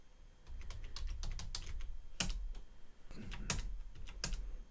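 Keys clatter on a computer keyboard as commands are typed in bursts, with close, crisp clicks and a few louder strikes like the enter key, no voices over them.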